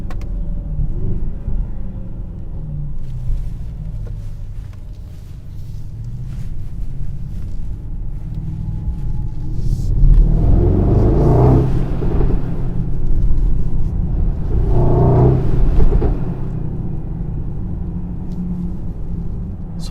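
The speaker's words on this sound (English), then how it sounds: "it is definitely fun driving a very large, heavy GLS with 630 horsepower" 2022 Mercedes-AMG GLS 63 SUV with 630 horsepower under way, a steady low engine and road rumble inside the cabin that swells twice into louder surging bursts of acceleration.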